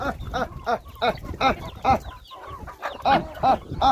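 Several farm chickens cluck close by in a rapid, repeated series of short calls as they run in to a call, loud and busy, with no one speaking.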